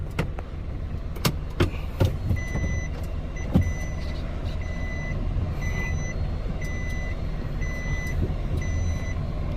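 A vehicle's reversing alarm beeps steadily and evenly over a constant low engine rumble as it backs in at a Thai fuel station, with a few sharp knocks and clatters near the start.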